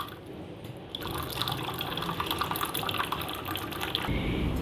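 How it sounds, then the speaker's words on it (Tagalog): Hot water dispenser at Hong Kong International Airport pouring heated water in a steady, continuous stream with a brief quieter start, heard fairly close without talk. "nagpapainit pa siya ng tubig. So, mainit na tubig po yan kasi yung pula yung pinipindot natin"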